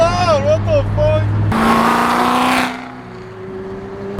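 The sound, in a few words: loud car engine on a street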